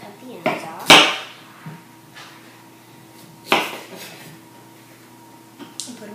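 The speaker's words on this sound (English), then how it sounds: "Now I can cut my sweet potatoes. So again, I'm just going to cut the ends off" Knife chopping through sweet potatoes on a cutting board, a few sharp separate clacks with quiet gaps between them, close by.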